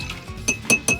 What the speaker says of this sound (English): Give it a nice little stir.